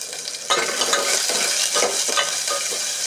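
Small shallots fry in oil for an egg and moong dal sambar, giving a loud, continuous sizzle with repeated stirring strokes, close and without speech.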